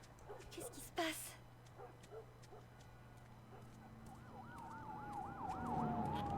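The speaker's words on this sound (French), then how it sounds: "Les voitures de keuf, là, qui passent." Police sirens in The Last of Us Remastered begin as a faint wail and swell louder as they pass. Their warbling rise and fall follows a few scattered thumps and short barks.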